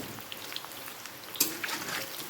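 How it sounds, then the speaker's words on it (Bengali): Heavy evening rain falling outside, heard from indoors as a soft, steady patter with scattered sharper drops. "বাইরে ভীষণ বৃষ্টি পড়ছে"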